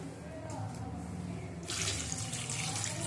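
Running tap water and splashing as mutton trotters are washed with turmeric in a kitchen sink, a steady low wash that swells louder and brighter partway through.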